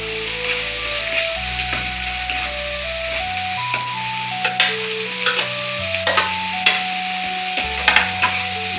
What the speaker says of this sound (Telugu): ఈ పచ్చిమిరపకాయ పేస్ట్ వేసుకుంటున్నాను.